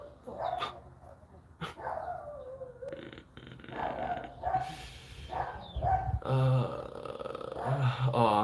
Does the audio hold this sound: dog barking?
yes